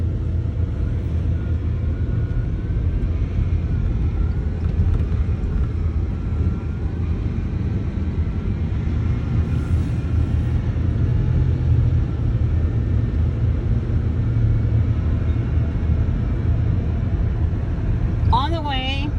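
A car drives along a city road with a steady, low engine rumble and road noise. The sound stays constant throughout, and a brief chirping sound comes near the end.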